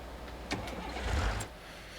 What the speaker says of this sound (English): We'll start your engine quickly.